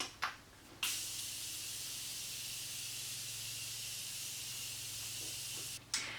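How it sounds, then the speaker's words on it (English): A Morphe Continuous Setting Mist setting spray sprays in one long, steady hiss lasting several seconds, close and fairly loud. A couple of short puffs come before it and a brief one follows, with no talking. "I'm just going to be using the Morphe Continuous Setting Mist. Don't be afraid to get it nice and wet."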